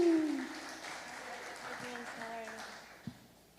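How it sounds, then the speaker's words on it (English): Faint scattered applause from a conference audience greeting venture-capital panelists, soft and distant beneath a speaking voice that trails off as the clapping tapers. "Give them a hand of applause"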